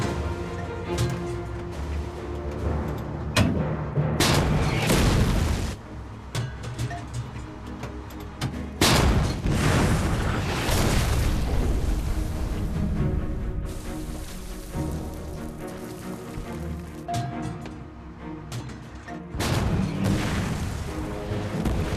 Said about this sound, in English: Dallas orders an M10 tank destroyer to fire 50 rounds at the entrance